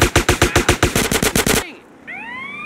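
Rapid automatic gunfire from GTA San Andreas, a dozen loud, evenly spaced shots in a burst lasting about a second and a half, then a lull and a thin whistling tail with faint background noise.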